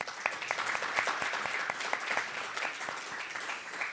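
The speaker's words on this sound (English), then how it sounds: "So a round of applause" A crowd applauds at a startup accelerator demo day, with steady, dense clapping and crisp individual claps that carry on through the whole stretch at moderate volume, no voices.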